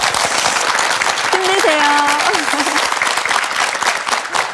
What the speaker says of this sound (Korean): 격려의 박수 좀 보내드릴까요?